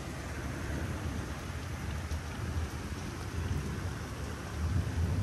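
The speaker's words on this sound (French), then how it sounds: "Donc là, forte pluie, hein, vraiment." Heavy rain pours down hard and continuously during an evening thunderstorm in Metz, with a deep rumble of thunder underneath and a dense, close hiss of drops on surfaces.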